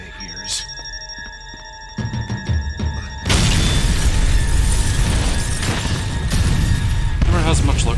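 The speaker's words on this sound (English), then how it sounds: "Rain bullets, just explosions." Explosions in the video game Max Payne 3: quiet ambience and a few sharp hits give way to a sudden, loud, sustained rumbling blast with crackling debris that fills the rest of the moment.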